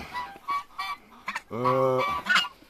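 A goose honks several times close by, short nasal calls with one longer drawn-out honk in the middle.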